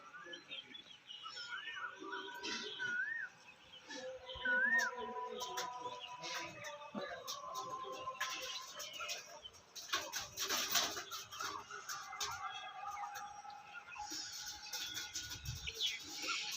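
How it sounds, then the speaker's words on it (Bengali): Young pigeon chicks, mostly Andhra birds with one white Punjabi chick, give soft, scattered chirps and cooing calls close by over a noisy background. "তো পায়রাগুলো দেখুন, এগুলো সব বাচ্চা"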